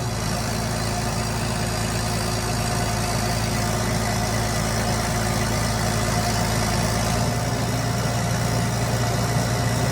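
A TimberJack skidder that sat unused for eight years runs with a steady, loud diesel rumble as its hydraulics are worked, the tone holding constant and close throughout.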